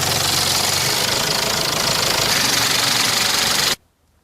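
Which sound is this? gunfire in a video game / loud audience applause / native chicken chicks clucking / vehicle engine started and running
vehicle engine started and running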